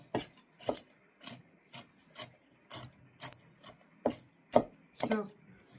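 A knife chops through gozinaki on a board with about eleven sharp, close cuts at a fairly steady pace, a few landing louder near the end, with no voices.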